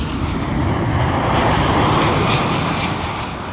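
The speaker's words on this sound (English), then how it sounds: "Condor 2402 from Frankfurt on an A330-900 Neo." Condor Airbus A330-900neo jet airliner in Condor's blue livery at Toronto Pearson Airport, a steady, loud, broadband engine roar holding level throughout with no voices.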